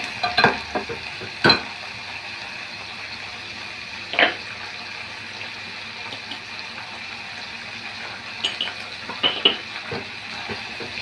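Curry leaves and coriander sauté in a pan for peanut chutney, giving a steady low sizzle with a few sharp spatula clacks scattered throughout, close and without speech.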